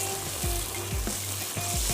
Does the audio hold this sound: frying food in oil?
yes